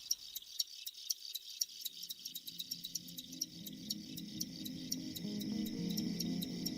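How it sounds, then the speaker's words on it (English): Many crickets chirp in rapid, pulsing trills, quiet at first, with a low rumble of background noise rising beneath them. "the sound of a chorus of crickets"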